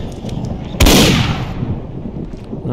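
A single loud gunshot in the video game The Last Dead End, a sharp blast at close range that decays over about half a second into a busy background of game noise.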